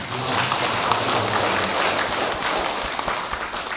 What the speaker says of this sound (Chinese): 咱大家以热烈掌声